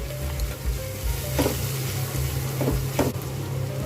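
Turmeric and chili powder fry in a pan with chopped coriander for a small morola fish curry, a steady close sizzle with a few brief scraping stirs against the pan.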